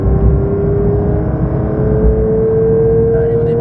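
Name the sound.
race car engine with light throttle at Dreux circuit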